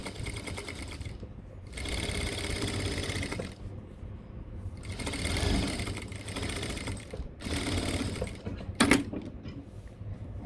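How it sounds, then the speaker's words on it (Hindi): A sewing machine stitches the pocket of cargo pants in loud, close bursts of rapid mechanical whirring, several runs separated by short pauses. "ऐसे आपने दोनों साइड पे ही सिलाई लगा लेनी है, दोनों पॉकेट पे।"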